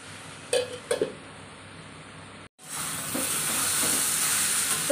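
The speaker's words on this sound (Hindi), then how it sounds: "ढक ढक के पकाएंगे और अच्छे से फ्राई करेंगे।" Raw papaya pieces fry in a pan with a steady hissing sizzle, broken by a few sharp crackles and a brief lid-like drop before the sizzle resumes, louder and constant.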